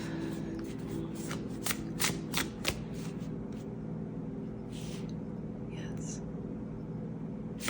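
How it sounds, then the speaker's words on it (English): A stiff tarot deck is shuffled loudly in quick riffling bursts, crisp flapping and snapping close up, then easing off into quieter handling. "they want me to shuffle it again, even though this deck is so stiff"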